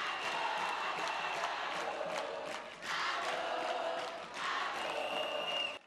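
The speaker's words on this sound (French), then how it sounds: "Je vous demande de l'applaudir très fort." A rally crowd claps and cheers in sustained waves, fairly distant, with brief dips between bursts.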